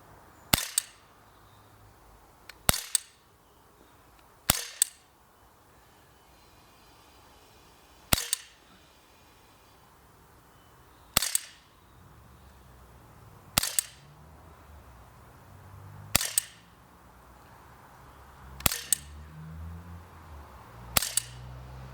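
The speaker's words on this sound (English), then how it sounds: "if I counted right, that's 10 shots" Ten sharp cracks from an Umarex Walther PPQ M2 CO2 blowback pellet pistol, fired one at a time at uneven intervals of roughly two to three seconds, each shot crisp and snappy against a quiet background.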